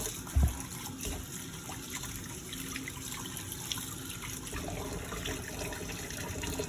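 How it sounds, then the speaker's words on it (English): A respirator is dunked, swished around and rinsed in water, giving a faint, steady trickling and sloshing close by, with no talking. "give it one final dunk, swish it around a little bit, and rinse"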